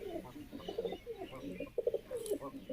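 Pigeons kept in a loft in Bijbihara coo softly in short, repeated throaty phrases, close by but quiet, with slight rustling between the calls.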